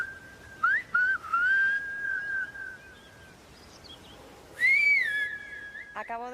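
A person whistles a signal outdoors, a few clear, sustained tones with rising slides, repeated in two loud phrases separated by a quiet pause, with faint background noise.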